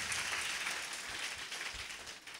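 A church congregation at a Sunday service applauds together in a hall, a dense burst of many hands clapping that holds steady for a couple of seconds and then begins to thin out, with no talking.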